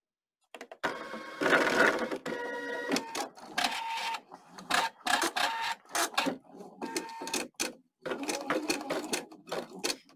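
An embroidery machine restarts after its needle is dropped back into the same hole, working a design in an additional hoop: a close, rapid mechanical stitching whir that runs in bursts separated by brief pauses, with a faint voice now and then.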